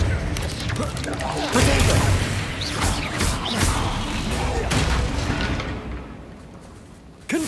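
Explosive spells cast during Hogwarts Legacy gameplay, loud booming blasts and crashing impacts layered over game music and ambience, with a voice speaking briefly over the noise before it fades near the end.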